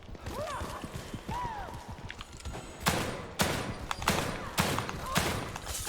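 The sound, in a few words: handgun shots in video game The Evil Within 2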